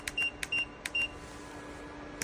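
Timer buttons on a 2000 W PTC ceramic fan heater give three quick, quiet electronic beeps in a steady rhythm, each a short bright tone, followed by low background hum and a faint fourth blip.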